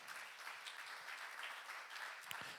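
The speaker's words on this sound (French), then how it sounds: "on peut applaudir Dieu." A Pentecostal church congregation applauding during a worship celebration, a faint, even wash of clapping from a crowd lasting a couple of seconds.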